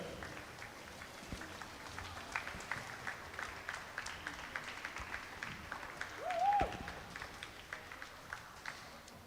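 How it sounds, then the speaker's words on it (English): Applause for young swimmers at a long course swimming championship, a steady, moderately distant patter of many hands clapping through the whole stretch, with a brief louder swell near the end. "A big round of applause, folks, for these wonderful children."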